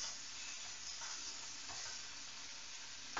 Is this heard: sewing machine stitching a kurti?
no